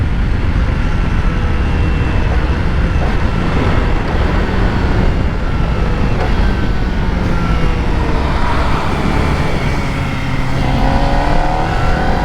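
A 2023 Kawasaki Ninja ZX4RR motorcycle engine while riding, a loud, steady high-revving drone mixed with heavy wind rush, pitch sweeping up through gears, close and continuous.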